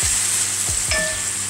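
Tomatoes sizzle steadily in a pan for a simple mushroom curry, broken by a few scraping stirs of a spoon. The frying noise is loud, close and continuous, with no talking.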